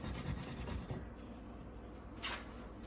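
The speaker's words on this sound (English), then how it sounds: "I'm gonna finish grating these carrots" Carrots being grated by hand in a home kitchen, a steady close scraping rasp in quick repeated strokes for about a second, then quieter low rubbing and a brief bright scrape near the end.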